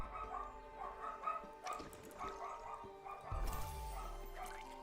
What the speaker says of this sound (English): dog in the background's going crazy for some reason